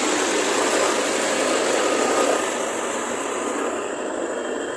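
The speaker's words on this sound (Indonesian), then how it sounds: "jadi pembuatan proses batu bata ini menggunakan mesin molen juga dengan menggunakan tanah ini" A mortar mixer (molen) machine churns clay soil for brick making, giving a steady, loud broadband mechanical roar that runs without pause and eases slightly toward the end.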